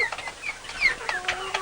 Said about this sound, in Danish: Nå, der ligger en høne derovre.